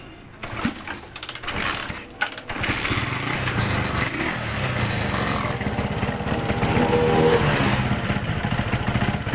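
A Honda GL100 motorcycle engine, converted to CDI ignition, idles with a rapid, steady putter after a few clanks and a brief start, running on continuously close by.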